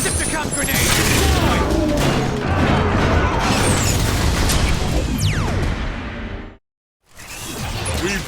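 A Decepticon grenade goes off in the Transformers: War for Cybertron video game. A loud, dense burst of explosive booms and mechanical clatter rolls on for several seconds, cuts to a brief silence, then the battle noise resumes.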